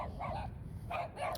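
A small young dog, barely past puppyhood, gives a few faint yappy barks in quick pairs, somewhat distant, with low background rumble and no talking.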